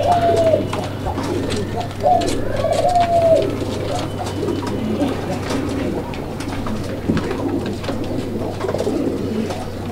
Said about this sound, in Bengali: নরটা কি ধরনের একটা নর, একদম মাশাআল্লাহ ভরপুর ডাকের কবুতর